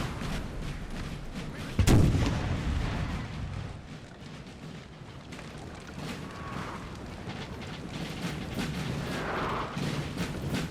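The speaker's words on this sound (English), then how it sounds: "The artillery is pumping the rounds in" Artillery fire in the video game Napoleon Total War during a Napoleonic battle, a dense, continuous barrage of booms and rumbling blasts with a loud crack near the start, steady throughout.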